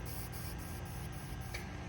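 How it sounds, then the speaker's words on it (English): Upside-down aerosol spray paint can clearing its valve in a series of short hissing bursts, about seven evenly spaced sprays, close and steady with no talking. "Always flip your can upside down at the end and spray it 7 times"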